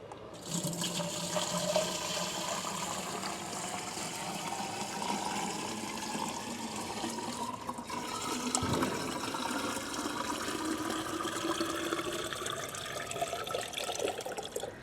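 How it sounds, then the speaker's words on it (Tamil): Water pours steadily into a fish tank built from an old tyre, a continuous rushing, splashing flow that stays even and fairly close throughout, with no talking. "இப்போ வந்து தண்ணி வந்து ஊற்றிக்கலாம்"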